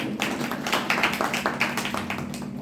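Applause from a gathered audience at a religious discourse, a short burst of steady crowd clapping that carries evenly from start to finish with no speech over it.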